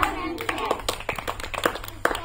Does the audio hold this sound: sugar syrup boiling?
no